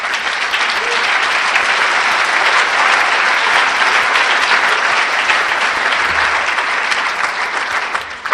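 Sustained, dense applause from a large convention banquet audience, steady and loud from start to finish.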